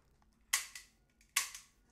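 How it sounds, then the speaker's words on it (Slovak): A toy cap gun fires twice at close range, each sharp crack followed by a brief snap, with quiet gaps around the two shots. "Strieľa teraz do kamery."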